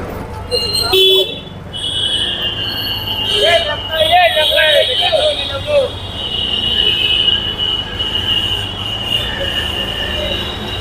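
A passenger train pulls into Ayodhya station at night, its wheels squealing in a sustained high whine over a rumbling background, while people talk nearby.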